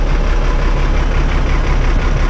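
An old engine, fully warmed up, idles in a loud, steady, unbroken low rumble with no voices.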